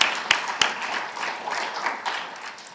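Audience applauding creative writing faculty at a writer's lecture event, a few sharp distinct claps followed by scattered, moderately faint clapping that fades over a couple of seconds.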